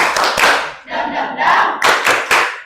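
A group claps out a rhythmic chant in a classroom-style gathering, bursts of hand claps landing in short uneven clusters with shouted voices mixed in, loud and close.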